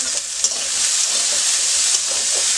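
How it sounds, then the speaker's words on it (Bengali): Potatoes fry in a pan for shahi paneer, a loud, close, continuous sizzling hiss with a couple of faint stirring knocks. "আলুটা লাল লাল করে মোটামুটি একটু ভেজে নিতে হবে। ঠিক আছে, ভাজা হচ্ছে"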